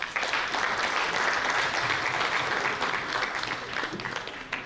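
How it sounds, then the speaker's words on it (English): Audience claps to welcome a distinguished panel at an economic dialogue event, with a full steady round of applause swelling quickly, holding, and tapering slightly toward the end. "please join me in welcoming our distinguished panel with a big round of applause"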